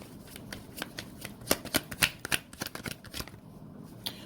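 Tarot cards being shuffled up close, giving a run of quick riffling flutters and soft slaps that swell in the middle and fade out, with no talk over them.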